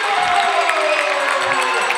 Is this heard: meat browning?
no